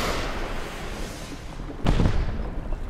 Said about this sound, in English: Goldie! Fire the rocket!